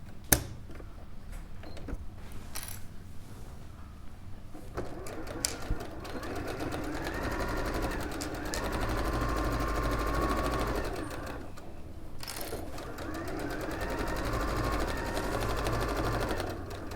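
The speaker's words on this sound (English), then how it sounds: "We're going to stitch all the way around" A sewing machine stitches all the way around a craft project storage bag, running in steady bursts with short pauses between them, close and clear with no talk over it.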